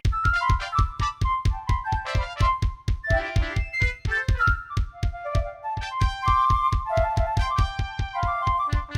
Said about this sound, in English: took out my MIDI keyboard, loaded some random instruments, and just slammed my keys for a few seconds